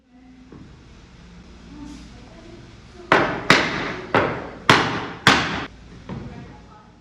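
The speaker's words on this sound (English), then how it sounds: "driving in the dowels in both sides" Wooden dowels driven into plywood chair legs, heard as five loud, sharp hammer blows in quick succession, preceded by softer knocks and followed by a fainter tap.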